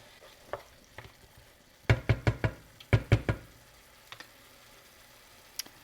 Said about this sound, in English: Let that cook until those onions get tender.